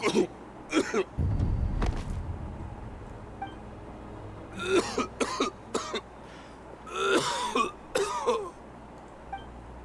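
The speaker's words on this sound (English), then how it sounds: "Why is he coughing so much?" A video game character coughs harshly and repeatedly in scattered bursts, some clustered in quick fits, with a low muffled thump early and quiet background hum between.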